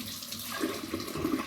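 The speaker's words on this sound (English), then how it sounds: "Let me rinse my hands." Hands are rinsed under a running kitchen tap, making a brief, close splashing rush of water that shifts as the hands move through the stream.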